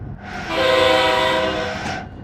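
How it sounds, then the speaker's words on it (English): Locomotive horn in the railway simulator game Train Sim World 3 sounds one loud, sustained, rich chord, starting after a short pause and holding steadily for about a second and a half before cutting off cleanly. "beautiful sounding horn. I'll probably say that it's one of the nicest sounding horns I've ever heard in a train simulator simulation game."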